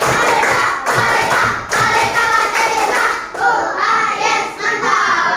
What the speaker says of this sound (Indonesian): Tepuk pelitaku.